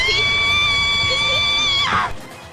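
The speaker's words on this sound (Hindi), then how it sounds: "उसे देखकर वह अपनी पूरी ताकत से चीख पड़ती है" A woman's sustained, high-pitched scream for a horror story, loud and steady for about two seconds before breaking off abruptly into a short fading tail.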